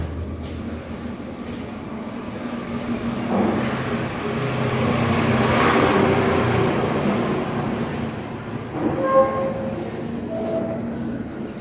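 A passing train rumbles along the rails with a broad, steady roar that swells toward the middle and fades, with brief tonal squeals or a faint horn near the end; no voices.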